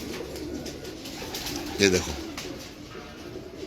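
Pigeons with fancy feathered wings in a loft give a brief soft coo. Someone speaks over the steady background murmur.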